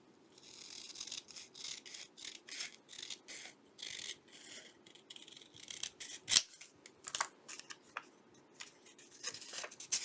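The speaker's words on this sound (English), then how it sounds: "I need to trim it down just a tiny, tiny bit. I'm just going to cut it like this." Scissors trim a paper journal page with a rapid run of crisp snips, close and steady throughout, with one sharper click partway through.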